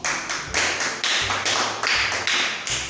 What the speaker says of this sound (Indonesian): kita beri tepuk tangan yang meriah untuk masing-masing kelompok